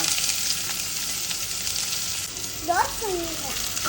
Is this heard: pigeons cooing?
no